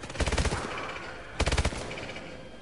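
Two short bursts of rapid machine gun fire in the game Call of Duty: Advanced Warfare, close and punchy, separated by a quieter stretch of background noise.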